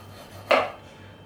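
A knife slices down through a frozen block with its plastic wrap removed, one short crisp cutting crunch against a board, close and alone amid quiet.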